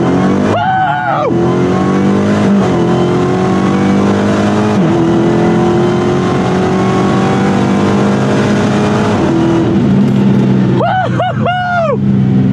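A Jeep Trackhawk launches hard down a drag strip, its engine roaring loud and close through rising gear pulls with sharp shift breaks, while voices whoop and shout excitedly at the start and end.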